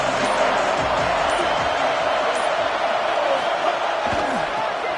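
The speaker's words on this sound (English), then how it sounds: "They challenge this crowd to bring the energy, and I'd say they're doing that." Steady roar of a stadium crowd in a Madden football game, a dense continuous wall of cheering throughout, loud and unbroken, with a commentator's voice talking over it.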